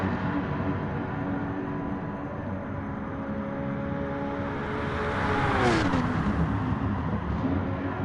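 A racing car engine in Gran Turismo Sport at the Willow Springs circuit holds a steady high-revving drone, then its pitch drops sharply as the car slows for the final turn, and the drone carries on at a lower pitch.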